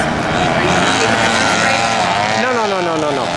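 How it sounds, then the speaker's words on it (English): Vintage racing karts run a lap at a historical kart race in Norway, their small engines buzzing loudly with rising and falling pitch as they pass, while someone talks nearby. "Karts are going to get the green after they run a full lap around the track"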